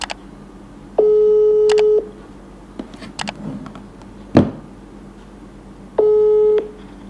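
A phone call is placed, and a ringback tone sounds as two long, loud, steady beeps about five seconds apart, with faint background noise and a brief click or thump between them.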